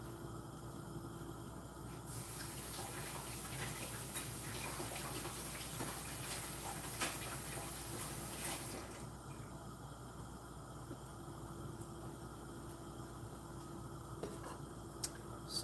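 Food is washed under a running kitchen tap in a home kitchen, a steady hiss of flowing water that grows louder and splashier for a few seconds midway before settling back.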